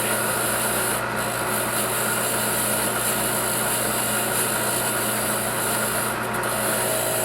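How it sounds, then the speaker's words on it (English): A wire brush scrubs the valves of a McCormick Deering M tractor engine, giving a steady, loud, continuous abrasive rubbing with no pauses, heard close up and alone. "Now I know why 805 Road King uses the wire brush for everything."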